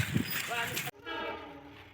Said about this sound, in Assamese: ৰেলগেট আহি পালোঁ, ৰেল আহি আছে, মানে ছিগনেল দিছে।